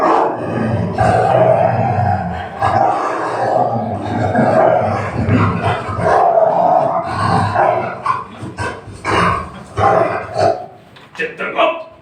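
Actors in a stage play imitate dogs with their voices, growling, barking and howling in a loud, overlapping and irregular chorus that fills the whole stretch, with human vocal tone plainly audible in the noise.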